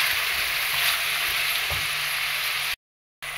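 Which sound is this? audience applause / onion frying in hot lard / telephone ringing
onion frying in hot lard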